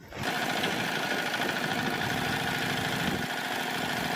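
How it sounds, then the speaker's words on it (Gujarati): A Comet 5 hp diesel engine on a small nano tractor cultivator runs steadily and close by, a continuous rattling chug at constant loudness for the whole stretch, with no voices over it. "દરેક મોડલમાં પાંચ હોર્સ પાવરનું કોમેટ કંપનીનું ડીઝલ એન્જિન આપેલ છે"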